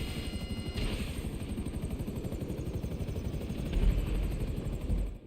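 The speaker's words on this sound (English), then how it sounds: "Crash the helicopter." A helicopter in a video game drones with a loud, steady rotor chop throughout, swelling briefly near the end as it goes down.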